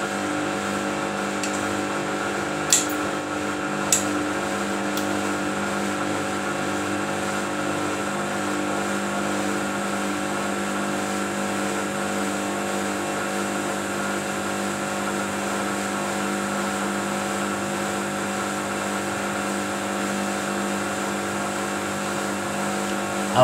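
A Samsung washing machine runs a normal wash cycle, giving off a steady droning motor hum with tonal whine, loud and constant, broken by a couple of brief clicks early on.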